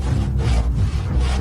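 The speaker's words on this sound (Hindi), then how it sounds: "आरी से लकड़ी काटे जा रहा था।" A handsaw cuts through wood in steady back-and-forth strokes, each rasping pass about a third of a second long, close and fairly loud with no voices.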